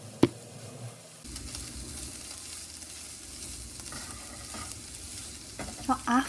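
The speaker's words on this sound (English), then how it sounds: "stir fry only the aubergine until it becomes wilted" Aubergine stir-fries in a pan for a Japanese miso pork and vegetable dish, a steady soft sizzle with occasional scraping stirs and a sharp clink at the start.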